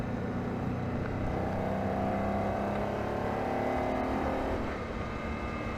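Ford Mustang S197 with a 5.0L engine, American Racing headers and Ford Racing mufflers, running on a track as a loud, continuous engine roar that rises in pitch under acceleration and stays dense throughout.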